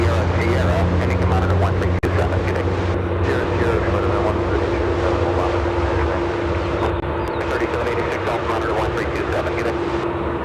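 At Chicago O'Hare, a Coletta Air 868 jet taking off for Anchorage, Alaska, gives a steady, loud engine roar with a sustained droning tone throughout, heard from a distance.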